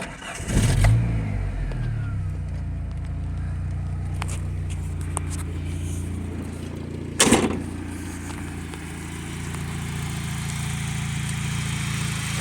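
A 1992 Ford Ranger flatbed with a 2.3 litre four-cylinder engine cranks and fires up with a loud burst, settles into a smooth idle, then gets a sharp brief rev before idling on, close up.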